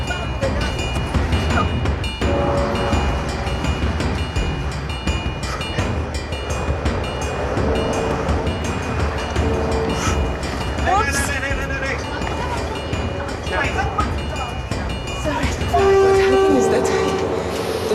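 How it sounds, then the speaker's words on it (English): A train pulling out of a station in Vietnam, with a steady rumble of rail cars, clicking wheels and a long horn blast near the end, while voices talk and call out over the noise. "the train is about to depart"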